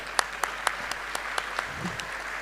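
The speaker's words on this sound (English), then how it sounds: "Let's keep those applause going" An audience applauds in a hall at a school event, a sparse scattering of distinct claps at an even, moderate pace.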